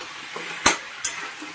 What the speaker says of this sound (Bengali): ভালো করে নেড়ে কষিয়ে নিচ্ছি